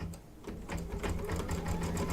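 An embroidery machine tacks fabric down for an in-the-hoop cake shop project, its steady rapid stitching faint and continuous throughout.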